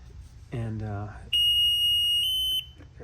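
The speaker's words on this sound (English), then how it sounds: "that's the internal alarms that I set" A pH meter's internal alarm, set during calibration of a fluoride-resistant pH probe in pH 4 buffer, sounds one sustained, piercing high-pitched beep lasting over a second, close and loud, just after a brief spoken phrase.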